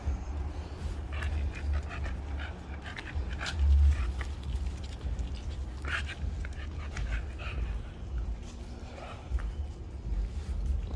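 Several dogs pant rapidly and whimper now and then while out on a walk, a steady rough breathing close by with faint high whines scattered throughout.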